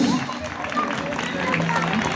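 Crowd applause for children at a lively Turkish neighbourhood concert, a dense clapping wash running throughout, with voices and crowd chatter mixed in.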